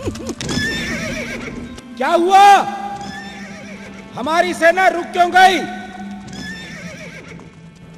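Horses whinny loudly in several long, wavering calls over steady clip-clopping hooves in an audio drama scene, as someone talks over the sounds.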